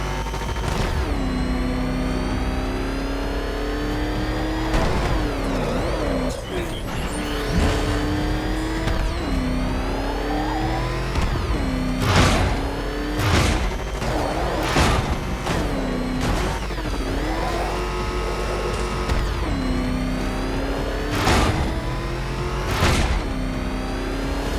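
The Batmobile's engine in Batman: Arkham Knight revs and surges repeatedly as it drives, with a loud, close steady drone broken by sharp rising accelerations and bumps throughout.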